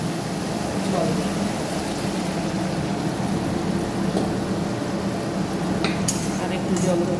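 Water pours into a rinsed mixer-grinder jar in a home kitchen while a mustard-poppy curry is being made; a steady, noisy splashing rush runs throughout, with a voice now and then.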